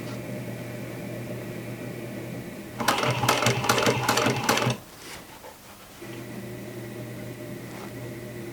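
A sewing machine stitches denim jeans in one fast burst of about two seconds, a steady hum running before and after.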